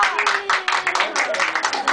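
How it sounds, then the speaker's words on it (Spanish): A group at a children's birthday party claps, with quick, uneven bursts of applause throughout a brief stretch, fairly close and moderately loud. "un aplauso para la amiguita, un aplauso"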